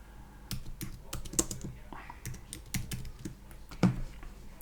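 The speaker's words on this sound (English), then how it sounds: "click on the screen, and then you can just type away" Clicky keystrokes on a computer keyboard come in an irregular run of close, fairly quiet taps with brief pauses, plus one louder knock near the end.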